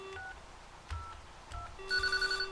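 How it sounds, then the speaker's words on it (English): Military field phone on a Polish LP10 switchboard line rings in short electronic bursts, three brief tones followed by a longer warbling ring, fairly quiet. "And this phone's ringing. It also rings the switchboard too."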